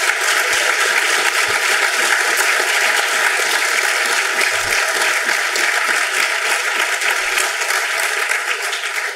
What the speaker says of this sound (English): please give our sponsors a big round of applause as well